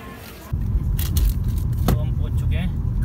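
Someone getting into a car before setting off toward Chandigarh, a door thud followed by rustling, clicks and a low engine rumble, with people talking throughout.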